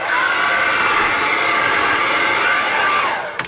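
A hair dryer in a hotel room whirs steadily at close range with a high, constant motor hum, cutting off abruptly near the end.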